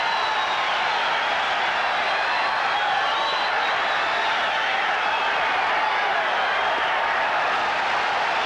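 Crowd at a 1988 Olympic boxing bout, a dense continuous roar of cheering and noise held at an even loud level throughout, with no distinct voices above it.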